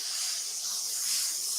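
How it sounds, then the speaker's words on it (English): The blower of an ironing board pushes air up through tweed fabric, a steady, soft, airy hiss with no voices over it. "the ironing board is blowing, it has a blower that blows the fabric up"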